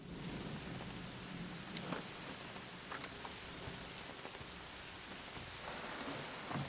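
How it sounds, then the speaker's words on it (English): Pouring rain in the Splinter Cell video game, a steady hiss of downpour with low rumbles of thunder, fairly quiet and unbroken throughout. "It's pouring rain."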